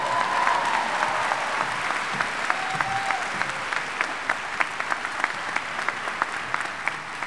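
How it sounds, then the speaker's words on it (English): Crowd applause at an undergraduate college commencement ceremony during an award presentation, steady clapping from a large audience with a few sharper individual claps standing out near the end. "Give my wife a round of applause"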